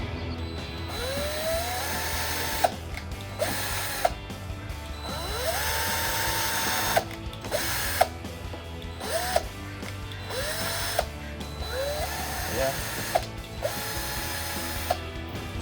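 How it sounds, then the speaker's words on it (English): A power drill bores pilot holes for the screws of a front splitter lip on a 2018-2023 Mustang GT Track Package, in several separate whirring bursts that rise and fall in pitch with short pauses between them. "start drilling where you marked originally using your drill bit. So these are your pilot holes for your screws."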